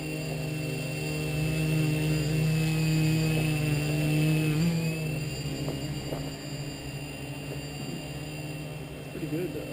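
A Kronos Flyer Extended V2 model aircraft flies nearby with a steady, fairly quiet whirring hum that shifts slightly in pitch, while people talk over it.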